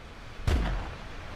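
A single gunshot in the hunting video game theHunter, a sharp boom with a rumbling low tail fading over about a second against a steady background hiss.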